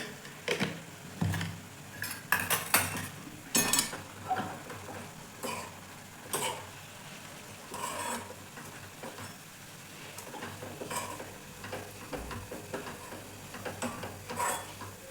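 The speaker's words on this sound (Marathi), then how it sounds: "आपण आता त्याच्यात रवा टाकून घेऊ आणि लगेच मिक्स करत राहायचं" A spoon scrapes and taps through semolina being mixed into a potato mixture in a pan, irregular close clicks and scrapes over a faint low hum, fairly quiet throughout.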